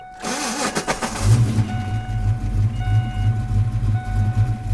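A vehicle engine cranks briefly and then catches. It settles into a loud, rough, pulsing idle that stays close and continuous to the end.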